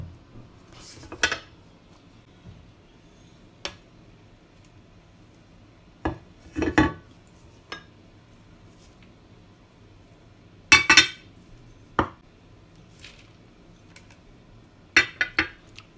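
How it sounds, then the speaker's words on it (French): Spices and onions are stirred together in a bowl, giving sparse, close clinks and brief scrapes of a utensil against the dish, separated by quiet gaps. "on peut mélanger toutes les épices, ainsi que les oignons"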